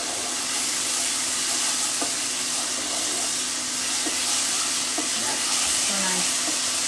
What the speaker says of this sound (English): Mix the garlic paste in, let that cook.